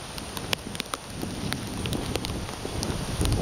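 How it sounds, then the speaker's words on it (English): Hurricane Isaac rain in southern Alabama, a steady close hiss of rainfall with scattered sharp drops and gusty wind rumble that swells toward the end, no voices. "It's raining pretty decent."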